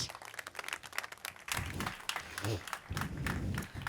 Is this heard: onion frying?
no